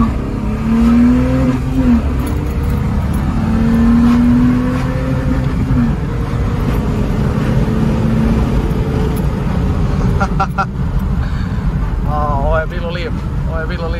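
A BMW E30 325i with a straight-six engine revs while driving. The loud, steady drone climbs and falls in pitch several times, with rising revs near the start and more short revving bursts toward the end.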